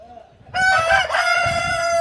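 A rooster crows loudly and close at a bird market in Qoraqamish, Tashkent, one long drawn-out cock-a-doodle-doo rising over faint background murmur.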